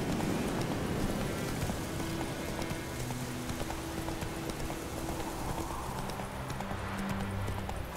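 Hooves of a horse in The Witcher 3 clip-clop in a steady running rhythm, continuous and fairly close, over a constant rain-like hiss throughout.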